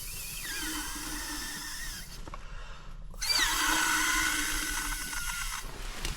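Air pump filling an inflatable at a bushcraft camp, a steady hissing whine that cuts out for about a second mid-clip, then resumes slightly louder and steadier.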